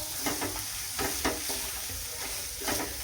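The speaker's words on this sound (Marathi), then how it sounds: "आणि आता आपण टोमॅटो आहे ना हे आता आपल्याला परत एकदा छान असा प्रेस करून घ्यायचं" Ladle stirring and pressing tomatoes into a simmering, sizzling drumstick curry (amti) with red chilli and whole spices, steady bubbling broken by several soft scraping strokes.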